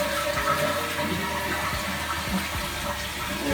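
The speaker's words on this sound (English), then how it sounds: "so one more flush." A toilet flushing after its wax ring was replaced, a loud close rush and gurgle of water draining through the bowl that runs steadily to the end with no talking.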